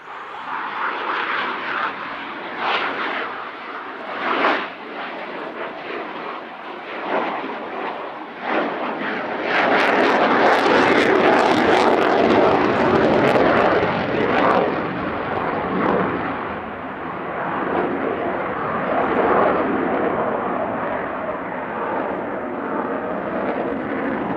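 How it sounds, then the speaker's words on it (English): Dassault Rafale fighter jet roaring through an airshow display, engine noise swelling from a moderate rumble into a loud sustained roar with crackling surges, distant passes rising and fading. "An excellent display from the Rafale, as we would expect"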